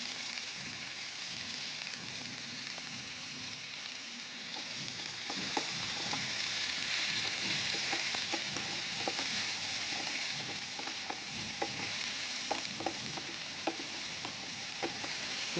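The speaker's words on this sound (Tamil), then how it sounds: "தக்காளி ஓரளவு நல்லா வதங்குது பாருங்கள்" Tomatoes with salt sautéing in a pan give a steady, soft sizzle and crackle with occasional stirring clicks, close and fairly quiet with no talking.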